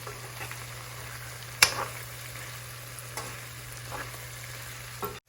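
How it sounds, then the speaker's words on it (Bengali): Onion and garlic frying in a pan as the base for a dried loitta fish bhuna, a low steady sizzle with one sharp clatter and a few faint stirring knocks, no talking. "আমি মিশিয়ে পেঁয়াজ রসুন এগুলো একটু ভালো করে ভুনা ভুনা করে নেব"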